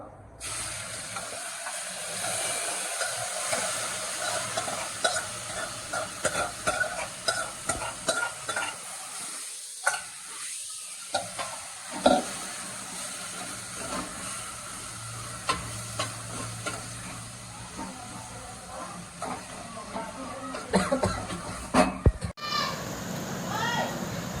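Kankoda (spiny gourd) vegetables sizzle and fry in a hot tempering in a home kitchen, with stirring scrapes and steady hissing throughout, and brief voices talking over it.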